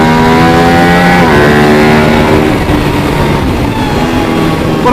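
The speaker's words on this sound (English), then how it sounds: "This bike takes a little getting used to for me, but it's still an enjoyable track bike" An EBR 1190 RX sport motorcycle engine roars loudly and steadily out on a race track, its pitch climbing and shifting through gears up close with no talking.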